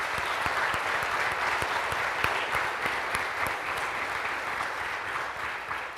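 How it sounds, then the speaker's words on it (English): An audience at a city's State of the City address applauds steadily at moderate level, with individual claps standing out now and then over the dense, even crowd clapping. "We can clap for that."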